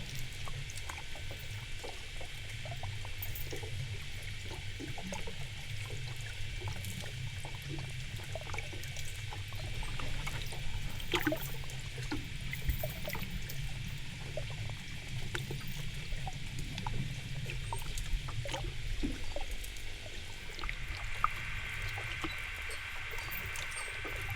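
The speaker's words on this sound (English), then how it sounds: "We have a chain rattle." Metal chain rattling underwater, recorded on a hydrophone during field recording: faint irregular clinks and taps scattered over a constant watery rumble and hiss, with a distant engine drone in the background.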